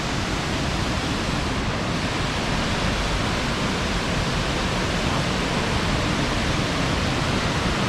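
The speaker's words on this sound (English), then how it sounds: "A staircase of waterfalls." A staircase of waterfalls in the Watkins Glen gorge, swollen after a night of rain, rushes in a loud, dense, unbroken roar, close and constant throughout with no voices.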